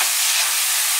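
One pound of ground beef sizzles in a pan over medium heat, a dense steady hiss of frying, close and even for a second with no voices.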